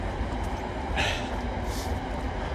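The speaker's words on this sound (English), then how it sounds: "I can hear the train again. It's very close by." A train rumbles steadily close by along the Rochdale Canal, a continuous low roar with brief hissing bursts from the wheels or brakes.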